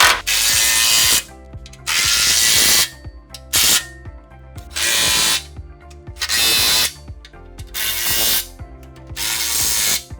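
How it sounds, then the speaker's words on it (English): A ratchet tightens bolts on a CBI T3 skid plate, sounding in repeated loud bursts of fast metallic clicking separated by short pauses, very close. "I'm going to go ahead and tighten these up."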